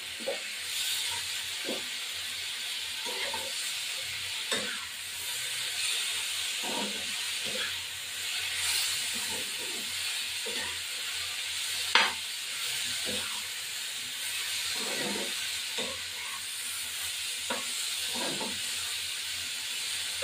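Green chilies hit a hot pan with a continuous loud hissing sizzle, punctuated by regular light taps and scrapes of a spatula and one sharp clink midway; steady and close throughout, no speech.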